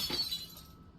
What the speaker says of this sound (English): The sound of glass shatter rings through the air as soon as her hold on it loosens.